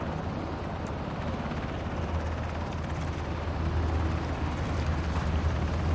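Helicopter in the battle-royale video game Ring of Elysium, a steady low rotor drone with a constant heavy rumble throughout, loud and continuous without breaks.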